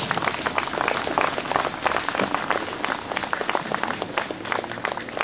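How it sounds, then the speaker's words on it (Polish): A large crowd at a 2008 Polish commemorative gathering after a Mass claps steadily and loudly, a continuous dense patter of hands sustained for several seconds with little talk. "Brawa jeszcze raz."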